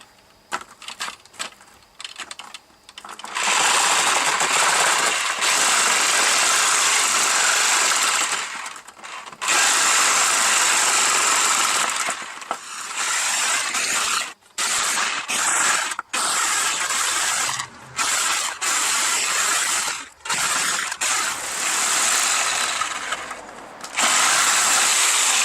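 HDPE plastic pipe is cut by hand with a tool instead of a bandsaw, giving loud, harsh, close rasping strokes in long sustained bursts broken by brief pauses, with no talk.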